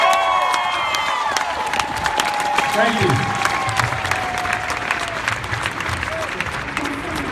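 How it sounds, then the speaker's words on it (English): Rally crowd at a Texas Muslim Capitol Day gathering applauds and cheers, a broad wash of clapping with whoops, while someone speaks briefly over it. "Give yourselves a round of applause for the love."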